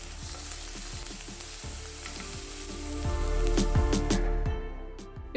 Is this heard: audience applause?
no